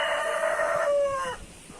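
A rooster crows once, a long loud drawn-out call that trails off, followed by quiet background.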